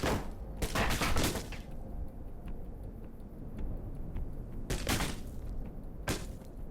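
Gunfire from enemies in the video game Alpha Protocol, several bursts of shots crackling loudly at the start and again near the end over a steady ambient background.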